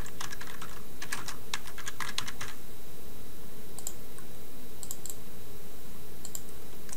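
Fingers tap on a computer keyboard while grade counts are entered, first in a quick run of close, crisp keystrokes, then a few scattered clicks after a pause, with no talking.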